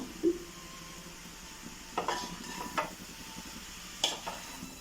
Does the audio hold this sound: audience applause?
no